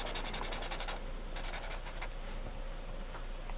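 Pen scratching out a freehand vector diagram of force arrows, with a brisk burst of short strokes, a pause, then a few more quick marks, close and quiet, no talking.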